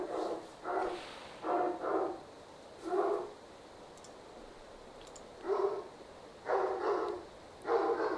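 Dogs in a video game bark in short bursts of two or three, separated by quiet gaps, moderately loud against a faint background hum with no speech.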